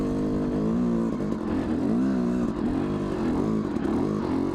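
A Yamaha YZ250 enduro dirt bike's two-stroke engine drones close and loud while riding a trail in a high gear, the pitch rising and falling gently with throttle, no talk.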